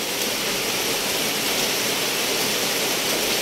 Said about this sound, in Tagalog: Maulan ang panahon mga kababayan.